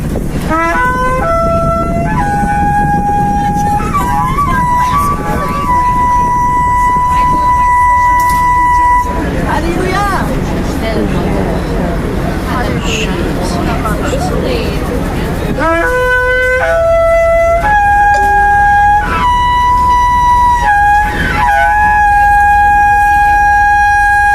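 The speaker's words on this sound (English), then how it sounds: "Beautiful woman blowing the shofar." A woman blows a shofar in loud, sustained horn blasts that step between pitches, in two long sequences separated by a rougher, noisier stretch in the middle.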